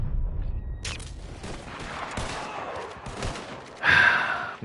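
Gunfire and cannon blasts in the Western shooter Red Dead Online: a scattered series of sharp gunshots cracking at irregular intervals, ending with a louder, heavier boom.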